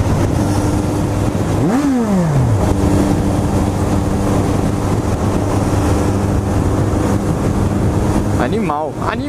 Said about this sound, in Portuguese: É a moto mais forte que eu já pilotei até hoje.